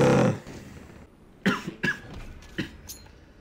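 Several sharp coughs in quick succession after a loud opening burst, fairly close and isolated, with brief gaps between them and no speech.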